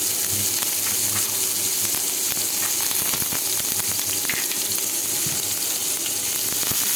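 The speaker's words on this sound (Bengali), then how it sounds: "তেলটা একটু গরম হয়ে আসলে এখানে যেটা পেঁয়াজ কেটে রেখেছি সেটা দিয়ে দিচ্ছি।" Chopped onion fries in a little hot oil, a dense continuous sizzle at steady loudness with faint clinks of stirring underneath.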